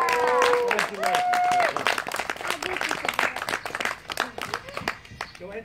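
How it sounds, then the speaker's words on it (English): A wedding crowd applauds steadily with lots of overlapping hand claps as the couple are introduced as husband and wife, while music plays over it and a voice speaks above the clapping. "Let's keep that applause going"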